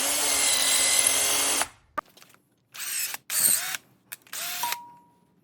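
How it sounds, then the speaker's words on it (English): A power drill whirs in several bursts while cutting a 6-32 thread into a small metal fret crowning tool. A long opening run is followed by shorter starts and stops, close and fairly loud. "While 1/2 got beveled, the other half gets tapped to a 632 thread."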